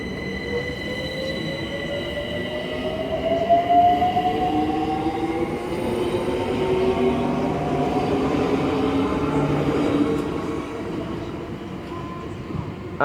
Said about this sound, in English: 12:22 London Overground service to Watford Junction now departing off now